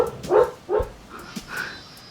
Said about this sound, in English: My dog is having a nightmare.